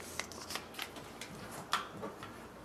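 A plastic bag is opened and bent in two while waterproofing a Dexcom G6 sensor, giving scattered close crinkles and sharp rustles at an uneven pace with no talk.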